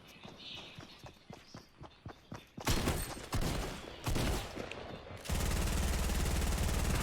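Rapid shotgun and weapon fire in the Fortnite video game, starting as a series of quick footstep-like taps, then several loud blasts and a dense sustained burst of gunfire at the end.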